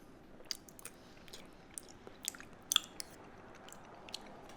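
Close, quiet chewing of spicy Korean rice cakes (tteokbokki), soft sticky mouth sounds with a few sharper wet clicks, no talk.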